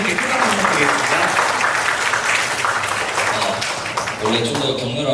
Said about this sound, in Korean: 발표해 주신 장례선님께 큰 박수 부탁드리겠습니다